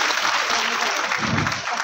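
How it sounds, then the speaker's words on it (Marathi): Audience applause at a stage event, a women's Paithani game celebration, loud and sustained clapping from a crowd throughout, swelling slightly near the end. "एकदा जोरदार टाळ्या सगळ्यांसाठी झालेल्या पाहिजे"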